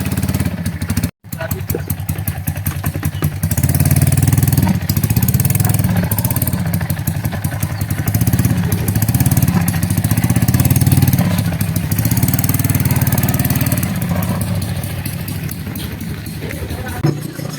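A motorcycle engine runs loudly and close, a continuous throbbing rumble that swells and settles, with faint talk underneath.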